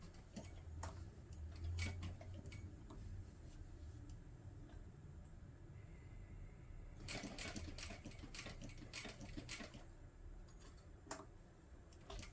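A sewing machine stitches a leather shamrock pouch with a quiet, rapid ticking and clattering of the needle, steady at first and then in faster bursts partway through.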